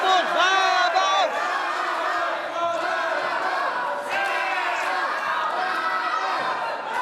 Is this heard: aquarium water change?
no